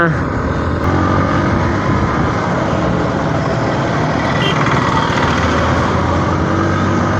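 A Hero Xpulse 200 4V motorcycle engine drones steadily and loudly while riding, with heavy wind buffeting mixed in. The roar stays continuous and close throughout, with no clear speech.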